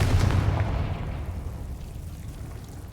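Confringo blasting spell cast in Hogwarts Legacy, a single heavy low boom with a loud burst at the start that rolls off into a long fading rumble, no talk over it.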